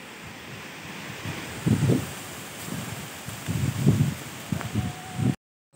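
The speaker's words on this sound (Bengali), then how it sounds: "আর মানে বাতাসও হচ্ছে জোরে জোরে, গাছ সব দুলছে" Strong gusting wind rustles swaying trees before rain, arriving in uneven bursts against the microphone, then cuts off abruptly near the end.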